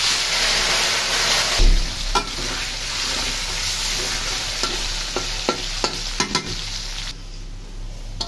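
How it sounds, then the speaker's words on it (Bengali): Half a kilo of cut potatoes sizzles steadily in hot oil in a home kitchen pan, with a loud frying hiss broken by several sharp stirring scrapes and knocks, no voices. "আলুগুলো তেলে ভেজে নিব"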